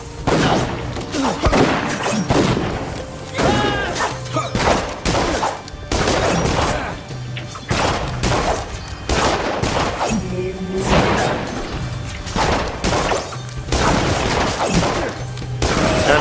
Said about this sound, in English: I've been shot. By that bastard with the gun.